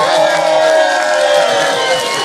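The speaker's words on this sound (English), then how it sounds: "Let's give them a round of applause for that." Audience applause and cheering from a crowd, loud and continuous throughout, a dense wash of clapping with raised voices mixed in.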